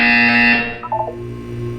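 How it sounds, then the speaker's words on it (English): A loud electronic buzzer from the video game Portal 2 blares for about half a second, then cuts off, followed by a short fading electronic chirp and a low hum. "You will hear a buzzer."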